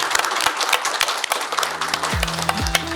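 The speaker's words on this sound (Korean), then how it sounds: "모든 분들과 함께 박수로서 마무리하도록 하겠습니다" An indoor audience claps to close a regional debate forum on local issues, a moderate spread of hand claps with a few short tones sounding over the applause near the end.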